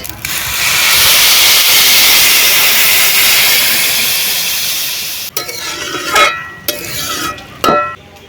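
Water poured from a vessel into a pot of rice and lentils for a rustic broken-rice dish, a steady loud rushing pour lasting about five seconds, followed by a few clanks and knocks of metal utensils and a lid.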